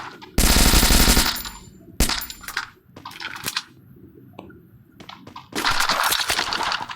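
Gunfire in the Free Fire mobile battle game comes as bursts of rapid automatic fire, a loud sustained burst at the start, scattered single shots and impacts in the middle, then another long burst at the end.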